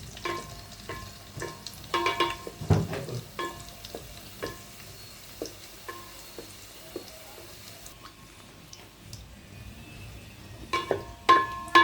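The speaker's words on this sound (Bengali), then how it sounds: "এই যে আমি চিকেন ফ্রাইড তেলটার ভিতরেই লুচিটা ভেজে নিব," Luchi frying in oil left over from frying chicken, with soft sizzling under scattered clinks and stirring taps from the pan, quiet and close, no talking.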